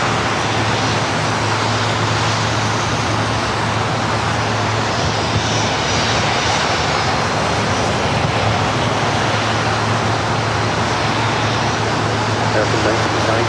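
Jet aircraft at LAX airport on a day of challenging weather and reverse operations, a steady loud engine roar and rumble throughout with constant broadband wash and low hum, while a voice talks over it.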